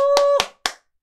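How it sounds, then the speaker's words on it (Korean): Three sharp hand claps in a slow, uneven rhythm, close and loud, the first over a sustained sung tone, with silence after the last. "오늘 하루도 힘차게 박수 치면서 화이팅 한번 해 보시죠"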